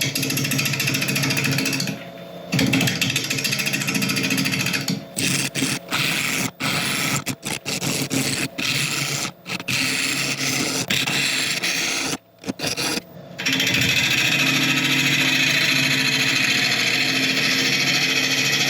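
A mallee burl spinning on a wood lathe at about 780 RPM while a sharpened half-inch bowl gouge cuts it: continuous rough scraping and chattering, broken by brief gaps as the tool lifts off, then steady cutting again.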